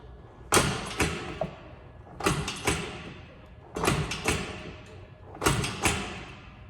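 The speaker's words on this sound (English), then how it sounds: "that's the sound of my feet slamming into this platform each and every time" Feet slam down onto a glute-ham developer platform during explosive standing power throw training, four heavy thuds repeating at a steady rhythm, each with a rattling metallic after-clatter, close and loud.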